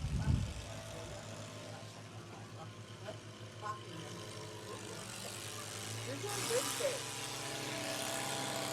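A tractor engine at a tractor pull drones steadily as a low, continuous rumble, swelling louder near the end, while an announcer talks over it.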